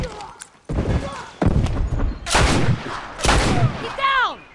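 Heavy gunfire booms in The Last of Us Remastered, several loud separate blasts and thuds in close succession, with a short whistling sweep at the end.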